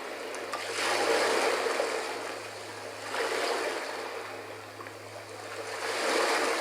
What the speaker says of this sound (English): And who doesn't like the sound of the ocean?